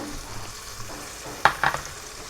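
Cardamom, spring onion, garlic leaves and coriander leaves sautéing in a pan for a village rice dish: a soft continuous sizzle with a few sharp spatula scrapes and clinks near the end, close and fairly quiet.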